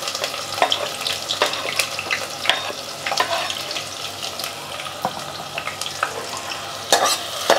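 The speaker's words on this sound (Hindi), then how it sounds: "प्याज को हम गोल्डन ब्राउन हो जाने तक अच्छे से 4-5 मिनट फ्राई करेंगे" Two medium onions, thinly sliced, fry in a pan over a high flame, giving a steady close sizzle broken by a series of sharp scraping stirs at irregular intervals, with no voices.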